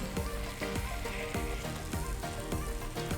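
Spicy chickpea shakshuka with eggs simmering in the pan, a dense, continuous sizzling crackle with small pops throughout, close and fairly loud, no voices.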